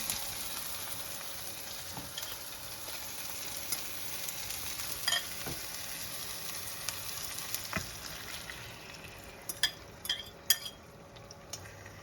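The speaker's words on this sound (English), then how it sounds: "So it's time to put the egg mixture in." An egg mixture cooks in a pan over low heat with a continuous soft sizzle, broken by occasional utensil clinks and scrapes that come more often toward the end.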